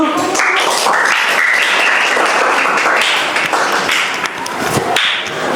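Classroom audience applauds after a group presentation, a dense, loud wash of clapping sustained for several seconds with a brief dip near the end.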